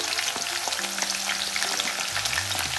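Ginger, garlic, green chili and curry leaves frying in a hot pan, a steady close sizzle with occasional stirring scrapes throughout.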